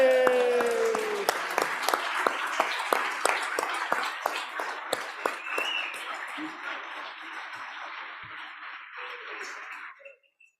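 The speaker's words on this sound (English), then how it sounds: "let's just stand up and give our sportsmen a round of applause" A crowd in the Wyoming House chamber applauds visiting sportsmen and hunters, a dense wash of clapping with distinct sharp claps standing out, fading gradually toward the end; voices talk briefly at the start.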